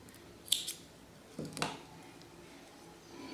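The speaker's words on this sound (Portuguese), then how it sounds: "vou cortar aqui o fio" Scissors snipping crochet yarn while finishing a row of a watermelon-shaped crocheted placemat, two short, crisp cuts close to the mic in a quiet room.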